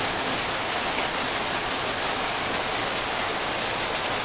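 Steady, dense rain patters hard on surfaces nearby, an unbroken hiss with no voices.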